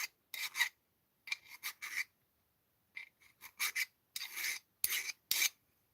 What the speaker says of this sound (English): Can't believe you guys are all sticking around listening to me file.